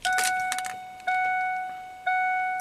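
Warning chime in a 1997 Ford F150 cab as the ignition key is cycled on and off: a steady electronic tone that restarts three times, with brief key jangling at the start.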